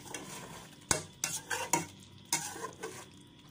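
A spoon stirs beef with spices in a pot for a Bengali kosha beef dish, giving close scraping, clacking strokes in an uneven rhythm over a steady sizzle, with no one talking.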